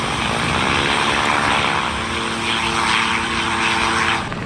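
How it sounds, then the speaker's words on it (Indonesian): A helicopter at an outdoor aircraft display, a loud, steady engine and rotor drone with a low, throbbing hum that holds continuously and fades slightly at the end, with no talking. "Wow, ada helikopter."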